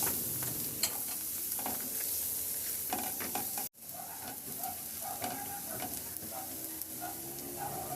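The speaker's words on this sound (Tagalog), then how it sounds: "Naglagay lang ako ng kunting butter. At igisa ko na yung bawang." Garlic sautéing in a little butter in a pan, a steady close sizzle with stirring scrapes, a brief cut just before the midpoint, then frying continues evenly with no talking.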